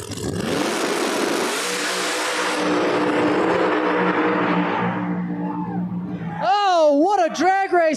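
Two drag race cars at a Street Outlaws No Prep Kings event in Epping, NH, racing side by side, with a loud roaring engine blast that fades off, and then an excited announcer's voice takes over near the end.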